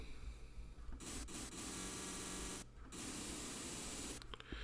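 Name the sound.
white noise from Serum 2 synthesizer noise oscillator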